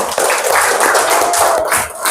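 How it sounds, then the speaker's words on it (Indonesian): Classroom children applauding a group, a dense burst of mixed handclaps close by with young voices mingled in. "Tepuk tangan dulu untuk kelompok 2"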